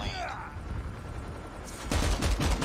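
Burst gunfire in the Call of Duty Mobile video game, a rapid dense volley of close, loud shots erupting in the final second after a quieter stretch with a faint whooshing effect.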